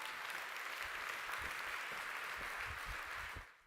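Audience applause at a global summit main stage, a sustained roar of many hands clapping evenly, then dropping away abruptly at the very end.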